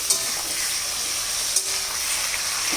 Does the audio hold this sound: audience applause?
no